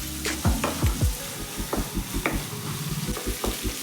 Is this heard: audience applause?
no